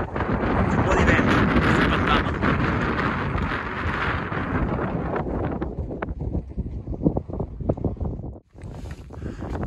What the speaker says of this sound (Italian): Un po' di vento.